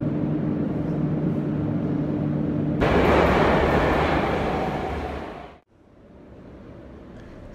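A St. Petersburg metro train at Narvskaya station roars in loudly and close over a low hum, holds a steady rushing rumble, then fades and drops away abruptly, with quieter station hum returning afterward.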